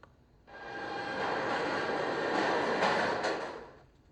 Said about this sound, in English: I'm going to turn up the sound for the subway.